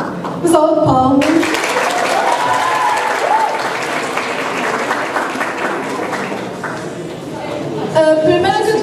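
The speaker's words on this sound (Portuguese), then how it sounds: "Um salve de palmas" Audience at an awards show claps loudly and continuously, a dense crowd ovation filling the space while a presenter's voice and some music-like tones sit at the start and end.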